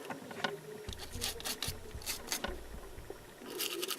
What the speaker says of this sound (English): you can start taking the brush to this, because you want some bigger scrapes